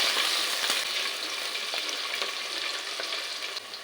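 Slit green chillies fry in a pan for chicken biryani, giving a loud, steady close sizzle with stirring scrapes and no talking.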